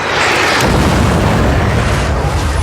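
A fire attack in an Avatar video game sets off a loud, sustained explosive roar that booms in abruptly and holds as a dense, rumbling blast for a few seconds, with no talking.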